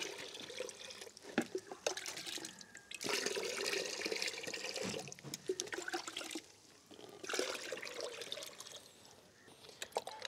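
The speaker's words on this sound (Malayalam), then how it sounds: "അപ്പോൾ ഈ വളം നമുക്ക് ഇതിനകത്തേക്ക് ഒഴിച്ചു കൊടുക്കാം." Homemade liquid fertilizer, brewed in a cloth bag, is poured into a plant pot in three quiet splashing bursts separated by short pauses, close by and faint.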